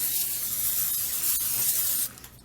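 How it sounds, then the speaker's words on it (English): Great Value cooking spray hisses in one steady, close, continuous blast onto dough for homemade dog treats, stopping abruptly after about two seconds. "I want to spray it pretty good. Put a nice coating on it."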